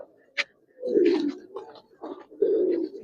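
A pair of khaki pigeons, the female with a hoarse throat, gives a few soft, throaty coos in short close bursts against a quiet background.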